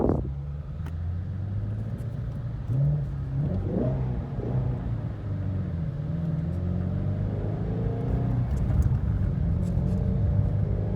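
A 2017 GT350 engine idles with its exhaust in quiet mode, a low, steady, fairly subdued rumble, with a brief rising rev in the middle.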